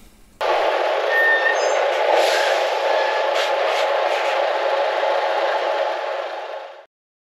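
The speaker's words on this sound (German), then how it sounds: "Bei der Einfahrt fährt der LKW auf die Brückenwaage," Heavy truck rolling onto a weighbridge at a farm entrance, a loud, steady engine rumble and rattle for several seconds before cutting off abruptly into silence.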